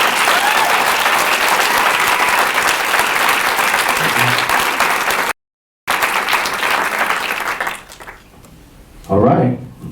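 A hall audience bursts into loud, sustained applause for a performer named Manny, dense clapping and crowd noise that drops out briefly, resumes, then fades as a voice speaks over the tail end.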